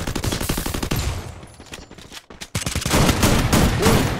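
Shotgun fire in the video game Free Fire, a rapid series of punchy blasts in bursts, pausing briefly before another dense volley, loud and close with no talking.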